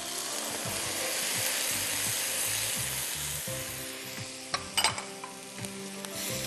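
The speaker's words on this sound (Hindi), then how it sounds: "अच्छी तरह भूनिए और आप इसमें दूध डाल दीजिए" Cabbage frying in a pan has milk poured in, a steady hiss of sizzling and stirring that softens after the liquid goes in, followed by a few brief clinks of a utensil against the pan.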